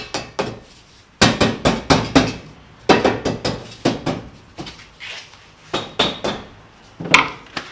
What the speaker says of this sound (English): I'll use my little hammer here